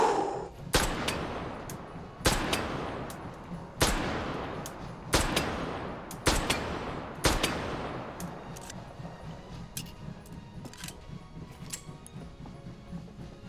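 A gun fires about seven evenly spaced, loud shots in the VR shooter Hot Dogs, Horseshoes & Hand Grenades. Each crack rings out with a long decaying tail, and fainter mechanical clicks follow once the shooting stops.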